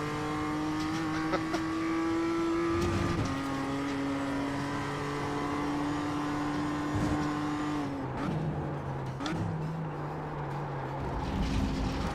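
An old muscle car's engine in a racing video game drones steadily and loudly, its pitch holding between gear changes with a few shifts and drops, and no talk over it.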